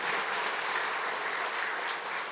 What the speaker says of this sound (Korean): 우리 다시 한번 박수로 우리 격려하겠습니다.